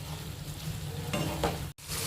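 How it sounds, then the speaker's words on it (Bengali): Gobindobhog rice and softened tomato fry and get stirred in a pan, a steady close sizzle with scraping stirs and a brief silent break near the end. "এবার মা চালটাকে একটু ভেজে নেবে"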